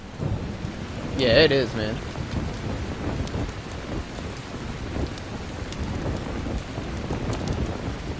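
Steady rain pours down with a rolling thunder rumble early on, heard in the Dying Light video game, with a brief casual voice briefly over the storm.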